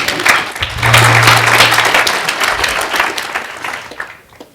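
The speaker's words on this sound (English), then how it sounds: "give yourselves a round of applause for being here" Audience at a talk on innovation and diversity breaks into applause, a loud dense burst of many hands clapping that holds steady, then thins and fades away near the end.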